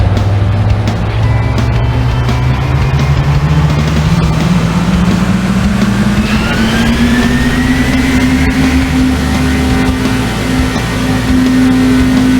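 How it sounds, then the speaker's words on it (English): Race car engines run loud and close with a steady, constant roar, their pitch climbing gradually as they rev up in a car race. "Gentlemen, start your engines."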